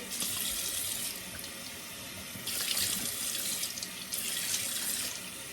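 Tap water runs steadily into a sink as soap is rinsed off hands, a continuous hiss that swells in a few louder splashing surges.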